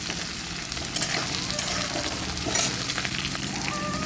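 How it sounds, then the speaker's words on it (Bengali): Ivy gourd (kundri) pieces fry in hot oil for a vegetarian curry, giving a loud, constant sizzle with faint clatter and scraping now and then. "এখানে কুঁদরিগুলো আমি একটু ভেজে নিচ্ছি, নিরামিষ তরকারিতে দেব।"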